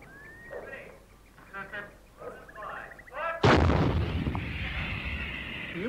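Military gunfire on an island coastal range: one loud, heavy boom hits a few seconds in and rolls off into a long rumble, following scattered calls of nearby waterbirds such as ducks or geese.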